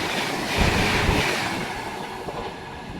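A train rumbles past close by, a loud, steady roar of rolling wagons filling the whole stretch.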